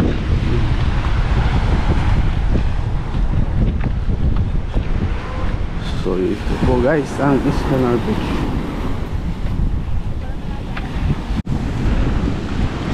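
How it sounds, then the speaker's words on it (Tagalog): Strong wind buffeting the microphone and rough surf breaking at Es Canar beach in Spain, a constant loud roar throughout, with someone talking briefly over it. "Wow, medyo maalon po ang dagat."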